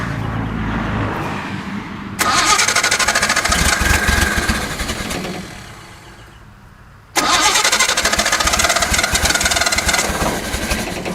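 A 1974 Datsun 260Z engine cranking and catching, loud and close, first a rough start, then a fade toward stalling, then a second hard burst of revving; no voices.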